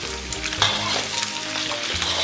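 Pork belly stir-fried in moderately hot oil with scallion, ginger, garlic, star anise and dried chilies, a dense steady sizzle with scraping stirs, close and loud, no talking.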